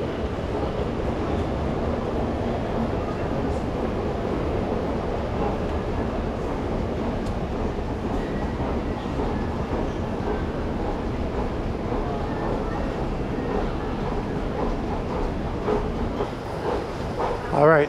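A train at a westbound platform in Paddington station, London, bound for Heathrow: a steady, loud rumble and rolling clatter of rail carriages that runs throughout, with faint voices in the background.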